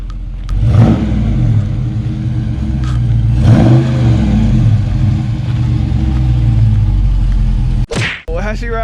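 A brand new car's engine revs and pulls away in two strong, loud surging sweeps, then settles into a steady driving rumble, with a sharp thump near the end.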